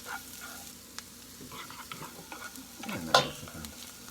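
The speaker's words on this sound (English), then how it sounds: "Fresh herbs. That's rosemary, sage, thyme. Throw a little bit of that in there. Saute it up." Garlic with fresh rosemary, sage and thyme sautéing in a pan for turkey stuffing: a quiet, steady sizzle with scattered stirring scrapes and a sharper clink near the end.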